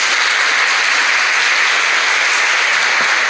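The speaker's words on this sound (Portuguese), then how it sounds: "Uma salva de palmas para Nossa Senhora." A Catholic devotional gathering gives a loud, dense round of applause in honor of Our Lady, the clapping close and steady throughout the short burst with no voices over it.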